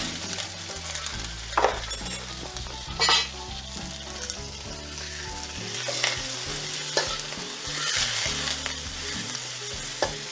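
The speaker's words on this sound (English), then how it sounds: "into the pan, I'm going to add my bacon." Bacon and green beans frying together in a pan, a loud close sizzle with crackling bursts and stirring scrapes, plus a few faint clinks of utensils against the pan, with low background music underneath.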